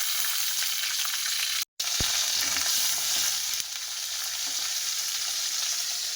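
Spices tempering in hot oil after fried potato, pointed gourd and soy chunks, with tomato going into the pan: a steady, loud broadband sizzle fills the whole stretch, broken by one brief cut-out and a sharp clank just after, without any talk.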